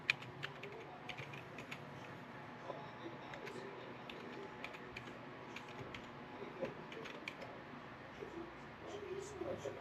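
Fast, light clicks come from a computer keyboard as an email address is typed, faint and close against a quiet room with soft background murmur.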